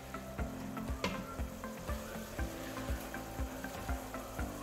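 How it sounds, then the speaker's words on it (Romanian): Summer cabbage sizzles in a pan on the stovetop, a steady frying hiss broken by rhythmic stirring scrapes every half second or so, close and fairly loud. "Aceasta este varză călită la ceaon, tigaie, la cratiță, nu în cuptor."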